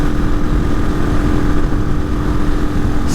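A Hawk 250 motorcycle with a Loncin RE250 engine rides in sixth gear at around 55 mph into a headwind. Its engine drones steadily under heavy, rumbling wind buffeting, loud and continuous with no pauses.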